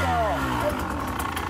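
A KTM EXC 150 TPI two-stroke fuel-injected motorcycle engine, a 2021 model, idles steadily nearby with a buzzy, slightly uneven tone, while people talk excitedly over it throughout.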